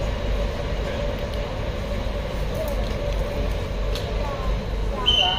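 Inside a moving Bangkok Airport Rail Link carriage, a steady low rumble and rolling hum fill the cabin, with a brief higher squeal near the end.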